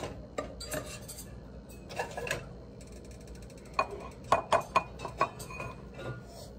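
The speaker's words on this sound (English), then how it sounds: "now we're just putting it in a bowl, and then we're gonna add the butter." Drained butter noodles go into a bowl with metal utensils, giving quiet scraping and a run of sharp clinks and taps against the dish, with several distinct knocks near the end.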